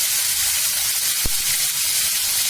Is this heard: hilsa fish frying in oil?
yes